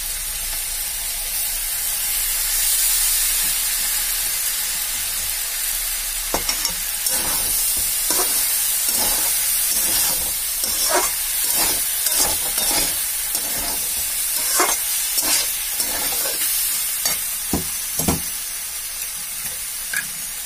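Brinjal with peas fries in a pan on the stove, giving a constant hiss of sizzling oil. Partway through, a spatula starts scraping and tapping the pan in repeated strokes, close and clear, with no talk.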